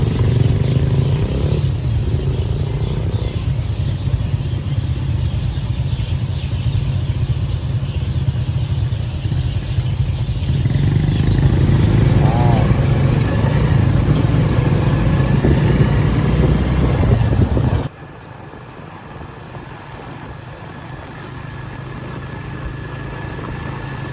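Motorcycle ridden along a busy road during a boat racing festival in Vientiane, its engine droning steadily and close with a rising note, then dropping abruptly to a quieter, lower hum near the end.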